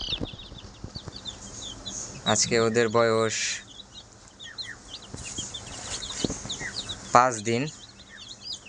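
Dozens of five-day-old broiler chicks peep steadily in a high, busy chorus, close and continuous, while someone talks over them at intervals.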